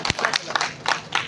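Applause from an audience welcoming a poet at a Pothwari Punjabi mushaira in Jubail, Saudi Arabia: a short burst of scattered hand claps with uneven rhythm.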